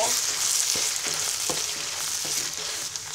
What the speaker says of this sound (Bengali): এবার মশলাগুলো কিছুক্ষণ ভেজে নিব।